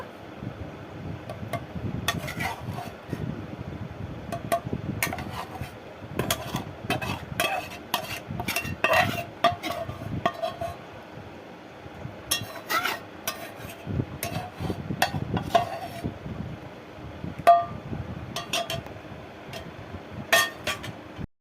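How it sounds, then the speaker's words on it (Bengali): Fried onion-tomato paste is mixed into chicken in a pot for chicken dum, making faint, intermittent scraping and squelching stirring sounds that run throughout. "এই পেঁয়াজ আর টমেটো ভাজাটা পেস্ট করা হয়নি, তো এটাই আমি পেস্ট করে নিয়েছে, তো মাংসের মধ্যে মাখিয়ে নেব।"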